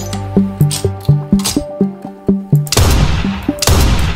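Gunfire from a gun in a modded Minecraft game, about nine sharp synthetic shots at a steady clip, then a loud burst of noisy crackling, close and loud, with no talking.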